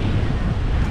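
Strong wind buffets the microphone aboard a sailboat running under gennaker on a beam reach in 16 knots of apparent wind, a loud continuous roar with rushing water beneath.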